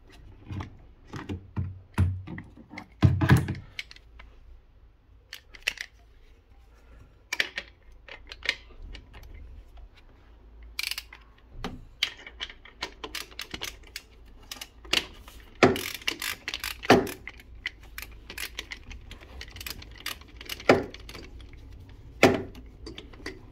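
Ratchet tightening screws on the 0CW DQ200 seven-speed DSG gearbox of a 2018 Golf 7.5 TSI 1.0. Irregular close clicks and metallic taps come in scattered bursts over a quiet workshop background, with no talk.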